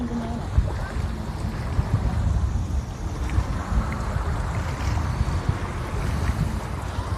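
Strong gusting wind buffets the microphone outdoors during a cooking and fishing outing, a loud, rough low rumble with irregular surges throughout and no clear talk.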